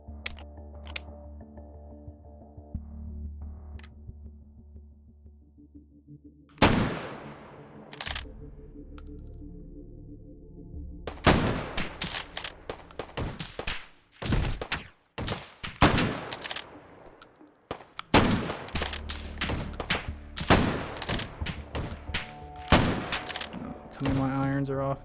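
Gunshots in the VR shooter H3VR, a quiet stretch of faint mechanical handling and clicks, then a dense, irregular volley of loud, sharp shots with brief pauses between bursts, some landing in rapid clusters.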